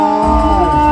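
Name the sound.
crowd applauding and cheering for Githua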